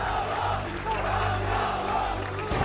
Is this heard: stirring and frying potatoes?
no